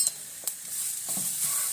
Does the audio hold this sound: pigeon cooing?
no